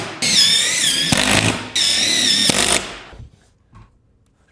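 A power driver runs screws in two sustained whining bursts, each ending with a sharp clack. Quiet handling noises follow, set during house prep work around a gas fireplace for Versetta Stone siding.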